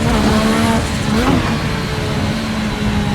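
Turbocharged car engine in the Assetto Corsa racing game, revving loud and steady with a brief rise and dip in pitch midway, alone without talk.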